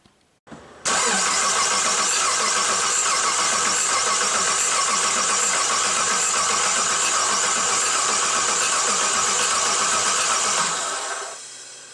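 A Chrysler 2.7 engine cranks over after a timing chain replacement with a failed tensioner, with a loud, steady rhythmic starter churn that runs for about ten seconds before winding down.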